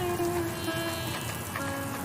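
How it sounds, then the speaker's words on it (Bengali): Heavy rain pours down in a city, a steady, dense hiss of drops on surfaces that stays even and unbroken from start to finish. "ঠিক তখনই ঝমঝম করে বৃষ্টি শুরু হয়।"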